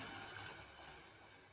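Water pours steadily into a cooking pot of dal khichdi in a soft, continuous gush, faint and close, fading slightly toward the end.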